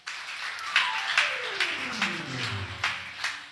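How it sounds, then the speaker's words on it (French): An audience claps at a youth program gathering, a steady patter of hands with regular sharper taps, brief and moderately close, with no voices over it. "Applaudissez Frère Johnny s'il vous plaît."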